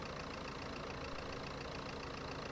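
A 1.5 dCi K9K diesel engine idles steadily just after starting, a constant close, even rumble running alone throughout.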